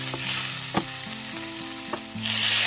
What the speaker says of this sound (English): Pour 2 tablespoons of olive oil into the pan. Then add garlic, followed with chili, fry until fragrant.